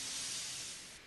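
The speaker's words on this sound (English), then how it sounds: "But Henry stayed in the tunnel and blew steam at him" A steam engine blowing out steam, a steady loud hiss that fades slightly toward the end, heard alone.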